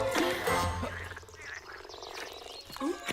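Several toads croak close by in a cartoon game scene, loud throaty rattling calls that overlap and then trail off into quieter warbling croaks.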